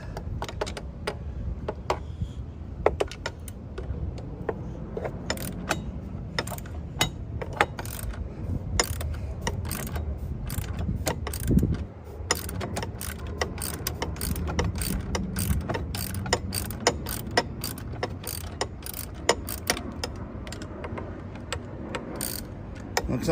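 Wheel bolts on a Can-Am Ryker 900 Sport three-wheeler being loosened with a ratchet in a garage: a steady run of quick, close metallic clicks, repeated in bursts, with no talk.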